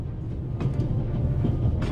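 Steady low rumble of a moving train on the Orient Express in The Raven Remastered, a continuous heavy drone with faint rattles and a couple of brief higher bursts.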